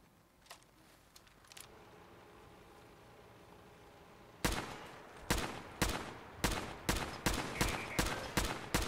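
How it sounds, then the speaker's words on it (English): Gunfire in Fallout 4 during combat with robots: a few faint shots early, then after a quiet stretch a loud series of about ten sharp, closely spaced shots in a rapid uneven rhythm. "Or I just kept shooting this and he died."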